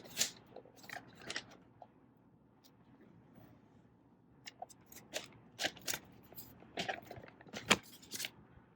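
Thin protective plastic film is peeled off a small Mac Mini M4 computer, making quiet, close crinkling and ripping bursts that grow more frequent toward the end.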